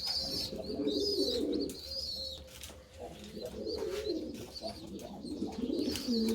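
A young Keklik Miro pigeon coos close by in a steady run of soft, throaty, rolling calls with short breaks between them. No one speaks.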